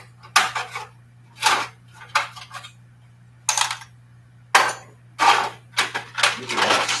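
Metal sockets and tools being handled and set down, producing a series of sharp clinking, clattering metallic knocks in irregular bursts, close and fairly loud against a faint steady hum.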